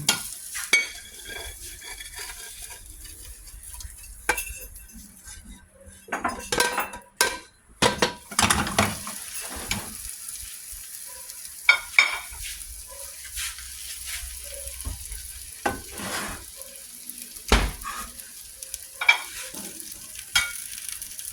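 Scrambled eggs cooking in a pan, a low steady sizzle under repeated scraping and stirring, with clinks of a utensil against the pan and a few sharper knocks, close and intermittent.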